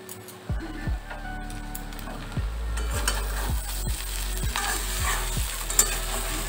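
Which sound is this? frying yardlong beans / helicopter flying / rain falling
frying yardlong beans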